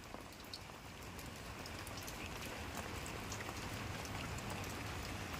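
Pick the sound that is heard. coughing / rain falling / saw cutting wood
rain falling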